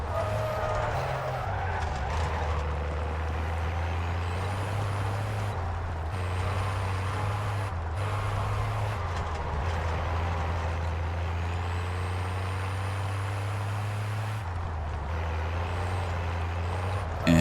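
A vehicle drives through Verdansk in Call of Duty Warzone, with a steady loud engine drone that shifts pitch as the gears change and the speed varies, sustained throughout with no talk.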